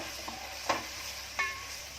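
Onions dropped into hot oil for prawn pulao, a soft steady sizzle with a couple of brief stirring clinks and scrapes, quiet and close.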